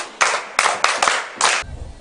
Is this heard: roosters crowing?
no